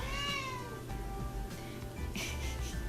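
A pet cat meows insistently in drawn-out, wavering cries up close, with a few overlapping yowls and no voices over it.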